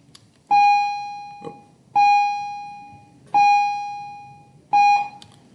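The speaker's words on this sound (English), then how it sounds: "sorry about the bell" A school bell rings loudly nearby in four separate electronic tones, each a sustained ring of about a second that fades out. No one speaks.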